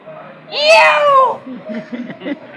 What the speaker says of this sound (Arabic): القطة